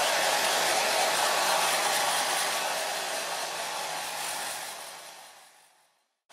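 Hair dryer blowing on latex for special effects face makeup, a loud steady whoosh of air held close for several seconds, then fading and cutting off.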